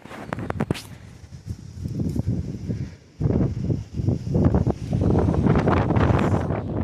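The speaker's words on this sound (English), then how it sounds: "It's a bit windy today." Strong gusts of wind buffet the microphone at an outdoor riding race track, rumbling loudly in uneven surges, with a brief lull before the blowing picks up again.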